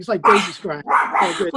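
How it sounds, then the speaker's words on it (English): Several excited dogs bark and yip in a loud, continuous burst. Their barking overlaps with someone talking over it in a home setting. "the dogs are going crazy here. So pardon the barking"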